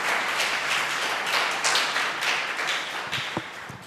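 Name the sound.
audience applause for the Lord in church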